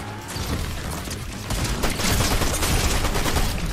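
Rapid gunfire from the Zeus Mythic weapon in Fortnite ranked play, a dense stream of shots that grows louder and heavier after the first second and a half, with no talking.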